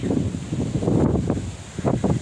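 Strong wind blows outdoors around a frost-damaged walnut tree, buffeting the microphone with loud, low, gusty rumbles that surge and fade continuously.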